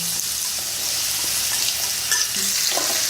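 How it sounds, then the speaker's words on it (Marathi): Chopped raw mango drops into a hot pan already holding fenugreek seeds and turmeric for methamba, and a constant close sizzle of frying follows with faint stirring scrapes. No one talks. "आता यात मी ही कापून ठेवलेली कैरी घालत आहे."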